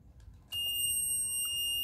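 A continuity beeper clipped to the ignition points of a JAWA 500 OHC motorcycle engine gives a steady, high-pitched electronic tone that starts abruptly and holds without a break, close and clear over faint workshop background.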